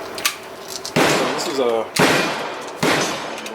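A Stribog SP9A1 firing 124 grain 9mm hollow-point hand loads: three loud, sharp reports spaced about a second apart, each trailing off in a ringing echo, with someone talking between shots.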